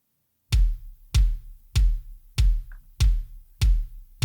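Solo drum sample from Slate Audio Trigger 2: seven punchy, booming hits at an even, steady pulse, each with a sharp attack and a short decaying tail, close and loud with nothing else underneath.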